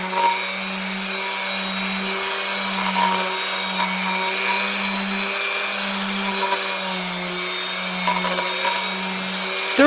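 An electric sander grinds rust off a vintage steel rail plate, its motor holding a steady droning hum. Scraping contact texture rides on top, close and continuous for the whole stretch, with no talking.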